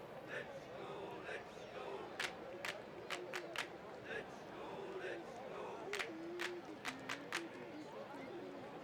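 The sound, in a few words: crowd cheering in baseball video game OOTP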